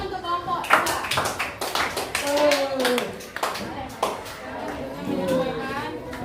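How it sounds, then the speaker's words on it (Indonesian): Children in a classroom clap for a group that has just finished presenting, a ragged burst of handclaps mixed with chatter and young voices talking over it. "Tepuk tangan untuk kelompok Dika."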